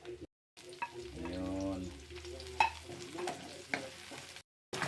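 Garlic sautés in a pan over low heat with a soft, steady sizzle and occasional utensil clinks, while a low electronic hum and a brief voice come in partway through.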